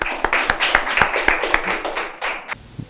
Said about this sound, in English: Let's give a round of applause for Team 3